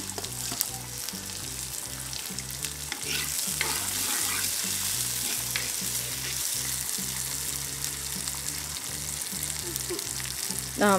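Chopped onion and green chilies frying in a pan for fish curry, a loud continuous sizzle with rhythmic stirring scrapes throughout, close and steady.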